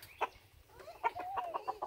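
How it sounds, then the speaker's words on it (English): A rooster clucks and crows in a short, rapid series of nasal calls close to the listener, with one drawn-out rising note in the middle. "Chicken."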